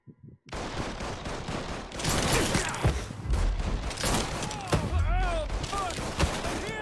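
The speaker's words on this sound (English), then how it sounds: "Who else is shooting at me?" Sustained gunfire in the video game Mafia 3 combat: dense bursts of rapid shots and fusillades, loud and continuous over several seconds, with a brief lull at the start.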